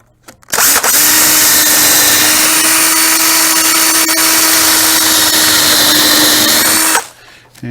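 A power drill whines at full speed for about six seconds while boring holes in a wooden cornhole board, starting and stopping abruptly, loud and close, with no talking.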